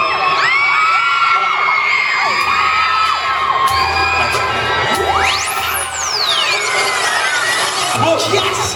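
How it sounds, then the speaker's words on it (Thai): A large, loud crowd at a concert screaming and cheering continuously, with shrill voices and whoops overlapping throughout. "เสียงกรี๊ดดังๆ"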